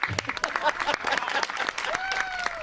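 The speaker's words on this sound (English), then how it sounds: "That's when you clap." A short burst of audience clapping, loud and close, mixed with a few voices and cheers from the crowd.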